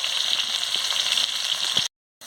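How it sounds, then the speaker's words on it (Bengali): Potatoes fry in hot oil in a pan until reddish, a dense, close, even sizzle that runs without talk and then cuts off abruptly into silence. "আমি আলুগুলোকে লাল লাল করে ভেজে নিচ্ছি।"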